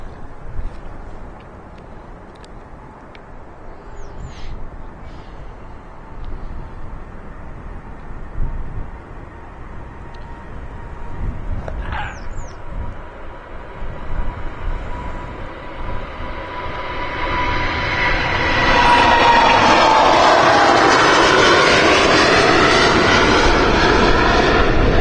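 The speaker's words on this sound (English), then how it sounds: "United Dreamliner." A United Boeing Dreamliner jet airliner on its takeoff roll at Amsterdam Schiphol Airport, engine roar building from a distant rumble to a loud, sustained whine and blast, heard alone without talk.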